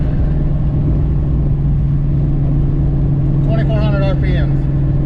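A car cruises steadily in fifth gear at about 75, its engine giving a constant low drone with road rumble and no change in pitch, and a brief bit of indistinct sound partway through.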